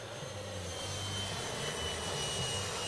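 A Freewing F-22 RC model jet cruising past gives a steady, faint turbine whine with a continuous airy roar, holding level throughout at a distance.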